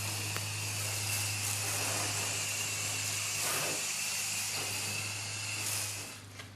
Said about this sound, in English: I'm using my foam gun because it is a lot faster